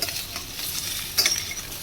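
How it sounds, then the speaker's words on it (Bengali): Ridge gourd sizzles steadily in a hot pan, with a brief metallic scrape of stirring partway through. "ঝিঙেটাও হালকা নেড়ে চেড়ে একটু ভেজে মাছ নেব"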